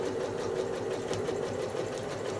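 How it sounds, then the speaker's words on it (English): A sewing machine stitching down a quilt block, running at steady speed with an even, continuous mechanical hum and rapid needle rhythm, close and clear with no talk. "Now I'm going to stitch down."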